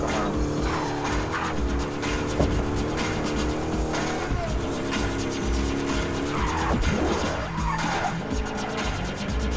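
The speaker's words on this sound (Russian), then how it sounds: "Что за дрифт?" Car drifting in the video game Battlefield Hardline, a continuous loud engine roar with long tire squeals and skids sweeping in pitch.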